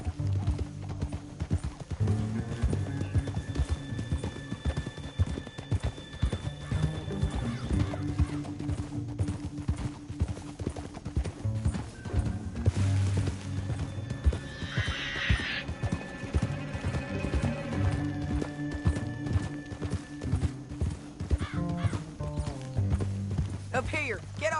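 A horse gallops in the Red Dead Redemption 2 video game, steady rhythmic hoofbeats running throughout with occasional whinnies and in-game voices talking over them.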